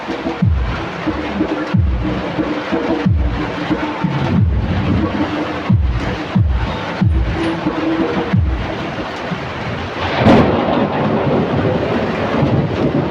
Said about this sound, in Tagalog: nakakatakot yung kulog